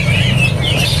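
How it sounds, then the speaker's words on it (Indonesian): Pose Vietnam birds at a bird market chirp in continuous thin, high calls over a steady low hum of background noise, fairly loud and close. "dari jenis burung pose Vietnamnya"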